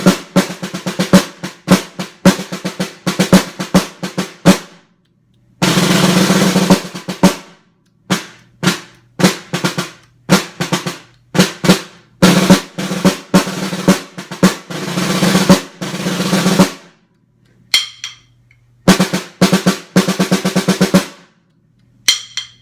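Snare drum audition piece played solo, with rapid paradiddle rolls and sticking patterns broken by short pauses, sharp accented strokes and a steady, even pulse; close and loud with no talking.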